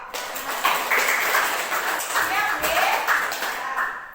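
A group of people claps in rhythmic bursts, with several rounds of hand claps mixed with chatter and voices throughout.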